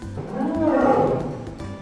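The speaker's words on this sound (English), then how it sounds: "Let's listen to the sound that a lion makes together." A lion lets out a single deep, rumbling roar that swells to a loud peak and slowly fades, close and unaccompanied by talk.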